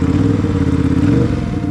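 An Aprilia RS 457 middleweight sports motorcycle engine runs steadily and loudly close by, a constant mechanical drone with a slight clattering edge and no speech.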